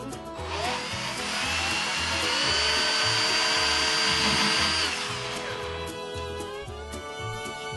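A power drill bores a hole in a guitar during a repair, a loud, steady whine for about five seconds that then stops, leaving a softer rumble.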